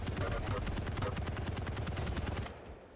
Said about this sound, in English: Huge rocket from Rapha there